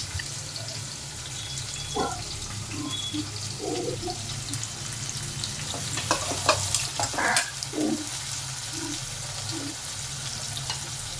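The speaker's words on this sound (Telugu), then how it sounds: "ఉల్లిపాయ ముక్కలు బాగా ఫ్రై అవనివ్వాలన్నమాట" Chopped onions frying in a pan for a vegetable pulusu, a soft steady sizzle with occasional stirring scrapes and light clinks, moderately close, no talking.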